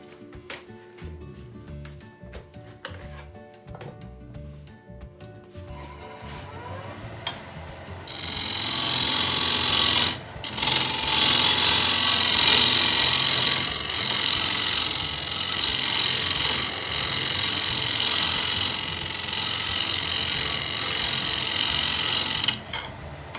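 Wood lathe spinning a workpiece while a tool cuts a tenon, starting with quiet low motor hum, then a loud sustained bright scraping, hissing cut from about six seconds that runs steadily to the end with a brief pause near ten seconds.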